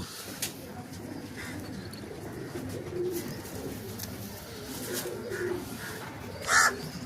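Domestic pigeons coo softly in the background, low and muffled, under faint room noise and a few sharp clicks and rustles.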